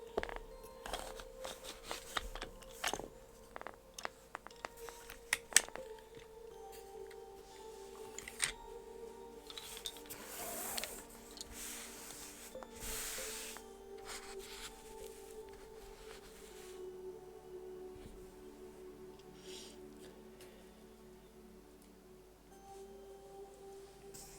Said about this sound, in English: I put it down so you could all listen to the bobbins.